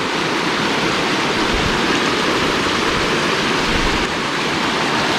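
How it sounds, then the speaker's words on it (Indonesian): A small river rushes steadily in a continuous broadband wash, close and fairly loud, tumbling over rocks with no voices, in Lawe Sigala-gala, Southeast Aceh. "Nah, ini suara sungai udah terasa"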